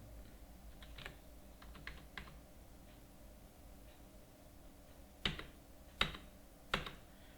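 Keys on a computer keyboard are tapped in short scattered bursts as a name is entered, faint and close, ending with three sharper, louder keystrokes spaced about a second apart.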